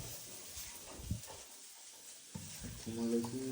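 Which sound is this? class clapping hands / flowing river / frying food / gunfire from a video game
frying food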